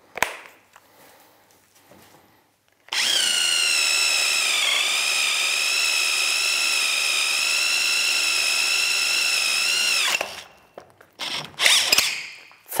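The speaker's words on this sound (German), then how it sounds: "großer Akkuschrauber." A large cordless drill whirs steadily for about seven seconds, its motor pitch dipping slightly under load, then stops, followed by brief clattering handling noises.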